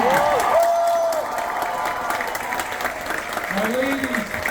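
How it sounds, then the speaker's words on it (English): A cruise-ship audience on a sea day claps and cheers for performers in a moderate, steady round of applause, with voices and a host talking over it throughout. "Give them a big round of applause."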